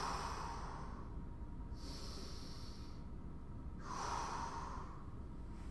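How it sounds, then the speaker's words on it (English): Slow, deep breaths during a hip, shoulder and upper back mobility stretching session: two long airy inhale-exhale cycles, soft and close, with steady background hiss and no talking. "Take 2 deep breaths."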